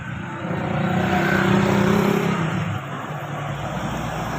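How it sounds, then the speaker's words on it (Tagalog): Busy street traffic with many vehicles passing on a local road. A vehicle engine rumbles loudly nearby as it swells and fades, under a steady broad roar from the road. "Daming sasakyan."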